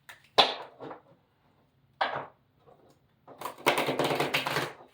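Tarot cards being shuffled at a reading table: a few crisp riffles early on, then a longer dense burst of rapid card flicks near the end, close and alone with no talk.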